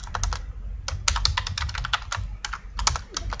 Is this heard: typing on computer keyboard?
yes